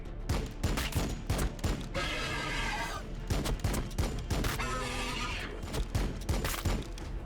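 Rapid volleys of weapon fire crackle in the sci-fi strategy battle game Warhammer 40,000: Battlesector, dense repeated shots in bursts with screeching energy tones between them, loud and sustained throughout.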